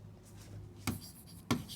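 Writing on a board during a Marathi grammar lesson: soft scratching strokes, with two sharper taps as the writing implement strikes the surface.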